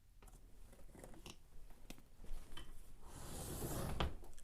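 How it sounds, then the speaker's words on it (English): A drawer crammed with paint supplies is pulled open, giving a rising clatter and rattling scrape of jostled contents toward the end, with a few light knocks and rustles before it, close by and without any talk. "I have more paint in a horribly messy drawer over here."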